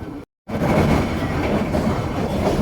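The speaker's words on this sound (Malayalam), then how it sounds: "Ooty toy ട്രെയിനെ Nilgiri mountain railway എന്നാണ് അറിയപ്പെടുന്നത്" The Ooty toy train of the Nilgiri Mountain Railway runs with a dense, steady rumble and clatter, close and loud, continuing after a brief dropout at the start.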